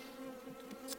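Honey bees hum steadily during a hive inspection, a close, continuous droning buzz with slight swells in pitch as bees hang and fly near an open hive body.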